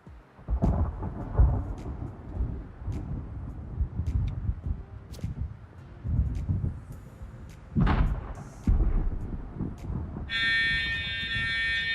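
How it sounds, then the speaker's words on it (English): Storm in the video game Rust, with heavy rolling thunder rumbling in repeated loud waves over steady rain hiss, a sharp crack partway through, and an air-raid style siren tone rising near the end. "once the storm starts, it'll actually also begin to flood the server"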